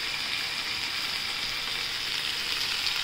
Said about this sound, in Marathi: छान परतून घेऊया त्याला।